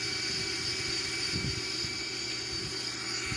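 Steady, continuous roar of Airbus A340-313X jet engines in cruise within a flight simulator, a loud, unchanging hum with no talk.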